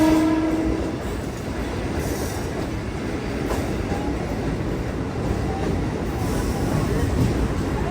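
Mumbai AC suburban local train at Mumbai Central railway station, a steady loud rumble of the train in motion with brief squeals and a short horn-like tone near the start, continuous throughout.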